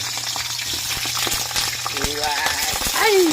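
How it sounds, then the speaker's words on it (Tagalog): Hotdogs frying in a pan give a steady, close sizzle, with clattering and stirring noises as they are moved about, and a brief exclamation from a person at the stove. "Luto tayo ng hotdog"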